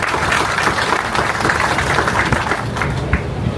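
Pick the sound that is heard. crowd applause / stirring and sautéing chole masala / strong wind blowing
crowd applause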